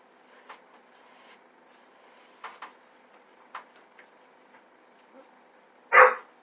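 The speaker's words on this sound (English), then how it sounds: "Don't be sitting in there barking." A single loud dog bark rings out near the end, preceded by quiet scattered ticks and small knocks in a mostly hushed room.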